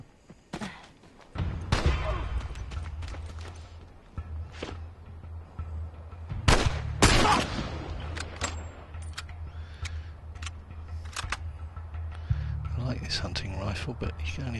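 Gunfire and impacts sound in a tense fight in The Last of Us, with several sharp, loud bangs spread among thuds and scuffling, under someone talking.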